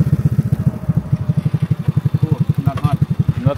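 A small scooter engine putters steadily at a rhythmic pulse while riding in Khao Yai, Thailand, with faint voices and traffic sounds in the background.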